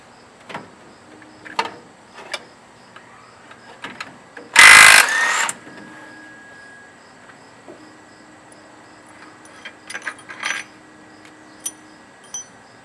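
Primary clutch bolt being loosened and removed, giving scattered close mechanical clicks and ratcheting with one loud burst of an impact or air tool partway through.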